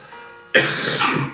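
A single harsh cough from someone with a cold bursts out after a quiet moment, followed by a rough throat-clearing rasp, close and fairly loud.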